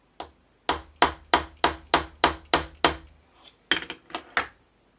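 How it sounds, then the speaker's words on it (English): A brass bushing being tapped back down in a vise with a hammer, about ten sharp metallic strikes in a steady rhythm, a short pause, then a few more hits, loud and close. "I'll put this back in the vise and I'll tap this back down"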